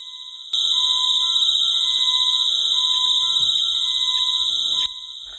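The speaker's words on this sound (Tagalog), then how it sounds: "Ang alarm! Gumising ka!" A loud alarm rings steadily for about four seconds with a sustained high electronic tone, then cuts off abruptly, with no talk over it.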